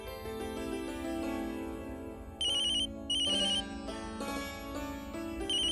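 A phone ringtone plays a repeating electronic melody in short bursts of bright high notes over a sustained musical bed, fairly loud with no speech.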